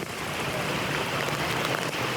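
Heavy monsoon rain pours down in Khed, a dense, continuous hiss with no voices over it.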